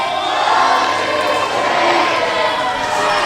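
A crowd at a wrestling show chanting together, a loud continuous roar of many voices filling the hall with a rhythmic collective chant throughout, no clear single voice standing out.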